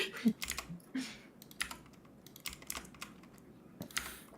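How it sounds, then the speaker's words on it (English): Computer keyboard typing during a tabletop role-playing session, irregular bursts of clicking and clacking keys, moderately close with uneven pauses between flurries. "Cliff, are you clickety clacking? I am clickety clacketing."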